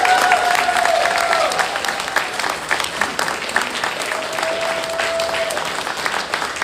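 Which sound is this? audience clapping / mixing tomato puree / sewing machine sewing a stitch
audience clapping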